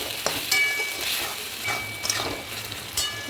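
Chilli chicken sauce with soy sauce and salt being stir-fried in a pan, a continuous sizzle broken by sharp scraping and clinking spatula strokes at irregular intervals, close and fairly loud, with no talking.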